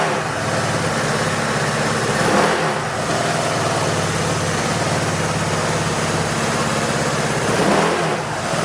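A Sanyang Fighter 5 fuel-injected scooter, checked for stalling after high-speed riding, runs at a steady close-up idle, with two brief throttle blips raising the engine note before it settles back.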